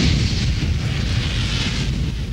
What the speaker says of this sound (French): l'oxygène qui pénètre dans la pièce se mêle au gaz déjà présent et engendre une boule de feu